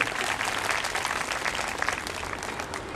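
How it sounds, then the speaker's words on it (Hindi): An audience at a religious katha gathering claps in welcome, a dense, steady burst of applause heard close and loud throughout. "इनके लिए विशेष तौर से आप भी ताली बजाकर इनका स्वागत करें।"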